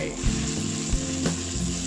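Steady loud sizzling of pounded Thai spice paste frying in hot oil in a pan, with occasional scraping stirs against the pan.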